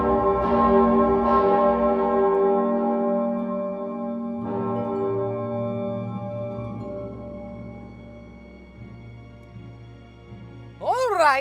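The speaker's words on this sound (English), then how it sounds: "which one of you pranksters rang the bell?" A single bell is struck in the video game Lost in Random, and its low, rich tone rings out clearly and decays slowly over several seconds beneath a sustained musical drone, with a rising tonal sweep near the end.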